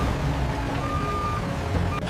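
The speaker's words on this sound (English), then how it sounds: "The low rumble of engines and the smooth motion of forklifts signal readiness for distribution" Truck engines rumble steadily at a peanut butter factory loading bay, with forklifts moving about and a thin reversing beep tone sounding through the continuous low drone.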